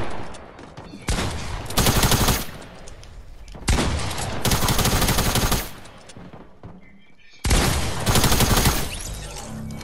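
Assault rifle fire in a 1v1 video game: three long, loud automatic bursts of rapid shots, separated by short pauses, close and dominant with no voices over them.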